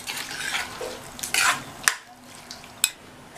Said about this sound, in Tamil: சேர்த்துட்டு இப்போ நல்லா கலந்து விட்டுறலாம்.